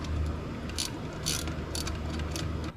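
A ratchet wrench turns a 13mm nut on a Hella horn bracket on a 2002-2007 Subaru Impreza. It gives a loud, close, continuous whirring clatter of pawl clicks with a few brighter surges, and no voices are heard.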